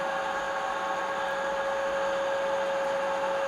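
A milling machine in a laboratory workshop, set up for gear tooth cutting, runs with a steady, loud motor hum and a constant whine, unchanging throughout with no speech.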